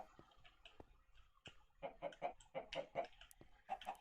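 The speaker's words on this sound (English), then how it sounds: "Yes, you can hear chickens" Chickens cluck in a Minecraft game, a run of short clipped clucks that grows busier toward the end, set over faint ticking and background noise.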